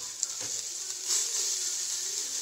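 Chopped capsicum sizzling as it goes into a pan of sautéed onions, a steady bright hiss of frying that swells briefly after a light clatter, with no talking.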